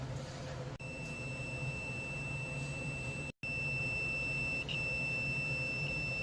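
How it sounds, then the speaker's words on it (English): A multimeter's continuity test on compressor terminals gives a continuous high electronic beep over a low background hum, briefly cutting out once before resuming. "make sure it's beeping and make sure we have a good reading"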